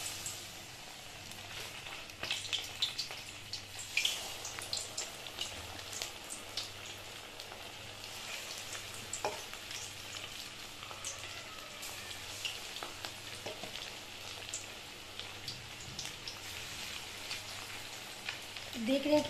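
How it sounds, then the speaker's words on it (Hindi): Marinated chicken deep fries in oil, a faint, continuous crackling sizzle like light rain with scattered pops and a low hum beneath, rising slightly at the very end. "देख रहे हैं किस तरह से ऑयल में जा रहा है, और इसे आप पूरा डीप फ्राई कर ले।"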